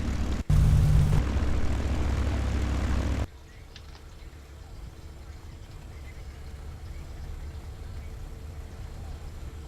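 Simulated North American P-51D Mustang propeller engine from the A2A flight simulator game, taxiing on a dirt strip; a loud, steady drone drops sharply to a quieter, even hum partway through.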